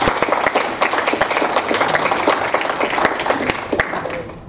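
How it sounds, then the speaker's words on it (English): Audience applause at a talk on agile leadership, a dense steady wash of many hands clapping at moderate loudness for several seconds, holding without a break. "let's give them a big round of applause for that"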